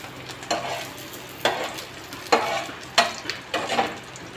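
Paratha fries in hot oil in a pan on a gas stove, a steady sizzle broken by four or five sharp scrapes and stirring clatters at irregular intervals.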